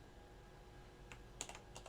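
Quiet typing on a computer keyboard during a Gunsmith game livestream, a short burst of light clicking keystrokes over a steady background hum, close and faint, with no talk.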